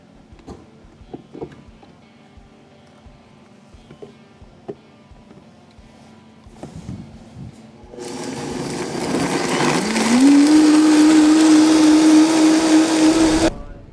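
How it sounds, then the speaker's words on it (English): A blender purees red Hatch chile hot sauce with about half a cup of water, starting quietly and then rising to a loud, steady whirring motor roar that holds for several seconds. "We're gonna put it on the blender."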